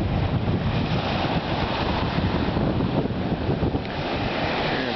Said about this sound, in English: and you've got the ocean